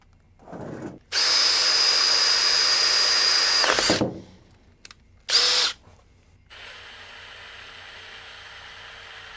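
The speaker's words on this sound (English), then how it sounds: "which means it's time to drill some holes." A power drill bores holes into a lathe bed to mount a DRO scale, with one long steady whine of about three seconds, then a short burst, followed by a quieter continuous hum.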